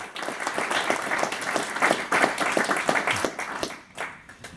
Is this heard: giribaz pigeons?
no